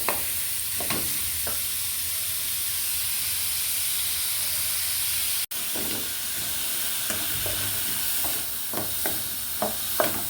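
Chopped onion sizzles and fries steadily in a hot pan as it softens before meat goes in, with occasional scraping stirs and small pops over a constant hiss.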